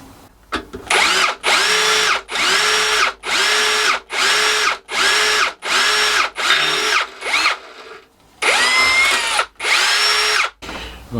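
A power drill drives screws through wood in a small shed workshop, running in about ten short, loud bursts separated by brief pauses, with a steady whine that rises as each screw seats.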